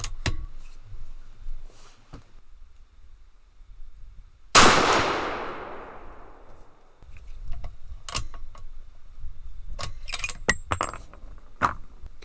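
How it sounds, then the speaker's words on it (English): A Savage 110 rifle chambered in 300 Winchester Magnum fires one loud, sharp shot at an outdoor range, and the report rings off into a decaying tail. Metallic bolt clicks and rattles follow as the action is cycled. "we'll shoot a 5-shot group and just see what happens"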